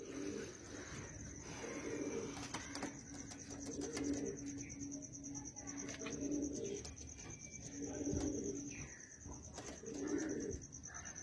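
Pigeons coo in soft, repeated low bursts spaced about every two seconds, faint and fairly close, with light chirps and a thin steady whine in the background.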